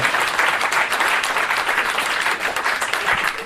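A live podcast audience in a crowded room applauds steadily and loudly, a dense wash of clapping that carries on without a break for several seconds with no speech over it.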